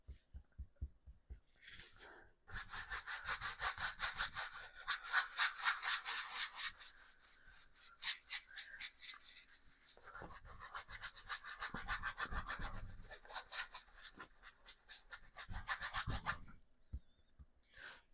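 Brush scrubbing a finish onto wood, repeated rapid rasping strokes in long bursts with short pauses between, soft and close-miked, no talking.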